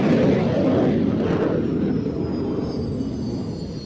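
A Jaguar jet flying a display at an air show roars loudly overhead, a broad, powerful engine rush with a thin whine that slowly fades.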